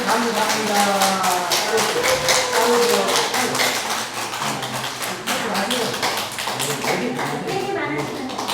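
A church celebration audience claps in a long run of sharp, close hand claps that hold steady for several seconds, with voices talking over the applause.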